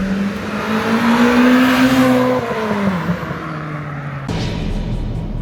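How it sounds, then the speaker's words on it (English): A JDM Honda Civic Type R EP3 with 225 horsepower revs hard, its engine note rising through the gears under acceleration before easing off, loud and close throughout. "Behind us is the Civic Type R EP3 JDM, 225 horsepower."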